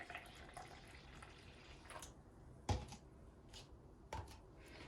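Faint trickling of water into a bowl for activating yeast, with a few distinct splashes and drips, close and quiet against a soft background hiss.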